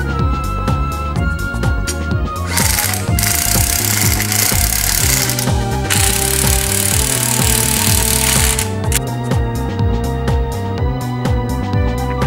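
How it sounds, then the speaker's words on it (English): Loud rapid hammering and rattling from power tools on a 2015 Toyota Vios as a spring compressor goes onto the suspension, with bursts of harsh hissing air through the middle, continuous and close. "Now I'm going to put on the spring compressor and put on the new springs."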